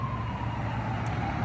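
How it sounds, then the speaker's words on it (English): A police siren wails in a steady tone amid constant street traffic noise, with no talking. "They put on their sirens to make it to before the light."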